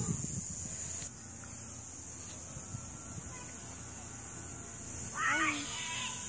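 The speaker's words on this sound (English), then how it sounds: "A cicada!" A steady, high-pitched electric buzz of periodical 17-year cicadas in Maryland drones throughout, swelling louder near the end, with a brief faint voice-like chirp.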